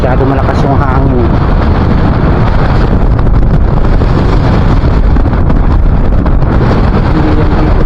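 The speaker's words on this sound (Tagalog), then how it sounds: "Masyado malakas yung hangin." Strong wind buffets the microphone at sea during rain, a loud, continuous low roar and rumble lasting several seconds, with voices faintly mixed in.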